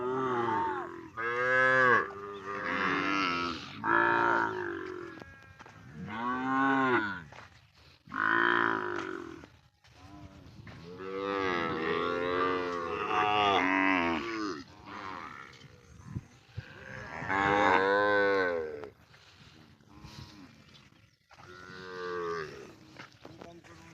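Calves and cattle on a char near the India–Bangladesh border moo repeatedly, with long, loud, close calls overlapping and following one another across the whole stretch, separated by short pauses.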